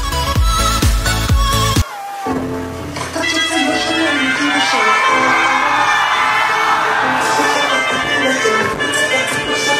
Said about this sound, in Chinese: 看着台下欢呼雀跃的场景